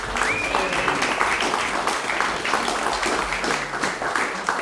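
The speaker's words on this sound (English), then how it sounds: "Give them a big round of applause" Audience applause after a live concert: steady, sustained clapping from a crowd with faint voices and cheers mixed in.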